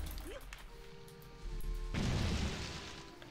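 A bomb blows up in a couch co-op console game, a sudden loud broadband burst about two seconds in, rumbling and fading, with quieter game sounds before it.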